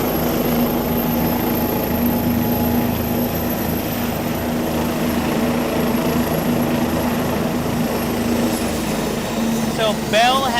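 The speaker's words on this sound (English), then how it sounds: "So this must be their corporate helicopter." A QuikTrip corporate helicopter at a Verticon red-carpet arrival gives a steady, loud rotor and turbine drone with a constant whine, unbroken for about ten seconds before a brief change near the end.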